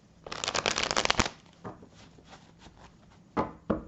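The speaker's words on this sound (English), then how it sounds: "I'm just going to pause the tape to shuffle a little more" A deck of tarot cards is shuffled up close in a fast, rattling burst of riffles, then a pause and a few shorter shuffles near the end.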